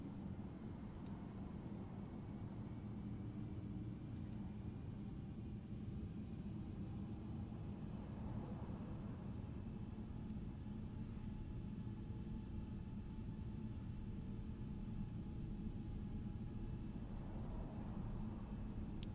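FlightFactor 767 airliner taxiing in the X-Plane 12 flight simulator, a steady low engine rumble and jet whine droning continuously at a faint, even level.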